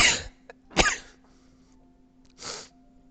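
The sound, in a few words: sneeze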